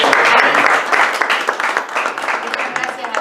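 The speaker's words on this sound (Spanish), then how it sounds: "Y yo sí pido un aplauso para el autor de este libro" Audience applause for a book's author at a presentation of the book, a dense wash of clapping that stays fairly loud and steady throughout without individual claps standing out.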